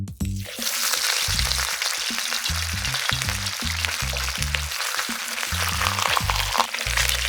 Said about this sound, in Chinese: 在煎鱼的过程当中，我们就保持这样的小火煎，并且不要碰鱼